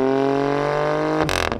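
A 2019 Alfa Romeo Stelvio Quadrifoglio exhaust holds a loud, steady engine drone that cuts off sharply on a quick upshift, followed by a couple of rapid crackling bursts as the gear changes.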